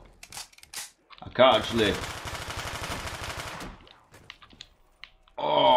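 Rapid automatic gunfire rattles in a loud sustained burst during a Black Ops 3 custom zombies survival match, with brief speech before it and a fresh burst starting at the end.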